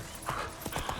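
Hoofbeats of the horse Roach in The Witcher 3, a quick series of clip-clop footfalls at a galloping rhythm, close and fairly clear over a soft game backdrop.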